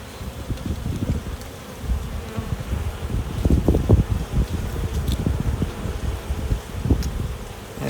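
Honey bees buzz at an open hive during an inspection for mite strips and crystallized honey, a dense close droning with fluctuating swells and brief louder passes near the hive.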